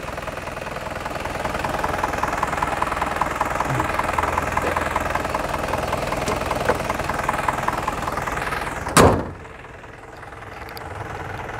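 A 2007 Isuzu Hi-Lander diesel engine runs steadily at idle with an even rumble and faint knock, close and continuous for about nine seconds before a brief loud clunk and sudden quieting.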